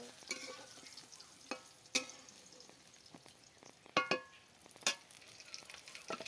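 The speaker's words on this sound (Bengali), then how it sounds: "রান্না হচ্ছে বেগুন ভাজা" Eggplant slices fry in a pan in a village kitchen, giving a steady soft sizzle broken by sharp pops and crackles or stirring clicks every second or so, close by with no talking.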